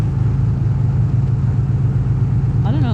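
Continuous motorcycle engine drone while riding along FM2194, a steady mid-pitched rumble close by, with a short burst of voice near the end.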